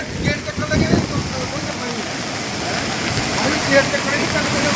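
Floodwater of the swollen Ravi river surges in a steady, close, broadband roar like a waterfall, with voices talking over the rushing water.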